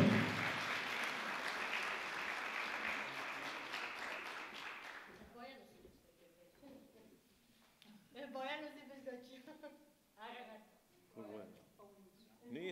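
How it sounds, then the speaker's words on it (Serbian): An audience gives a big round of applause at a mountaineering club's 70th anniversary celebration, warm sustained clapping for about five seconds before it fades and voices take over, talking in the room. "Jedan veliki aplauz za Mariju."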